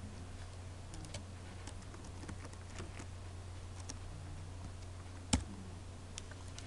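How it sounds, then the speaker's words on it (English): A Linux netstat command being typed on a computer keyboard: faint, scattered key clicks over a steady low hum, with one sharper tap near the end. "I type in netstat I."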